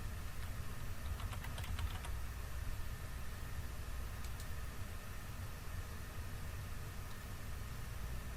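Typing on a computer keyboard, a dense patter of small clicks over steady background noise, busier at the start and then thinning.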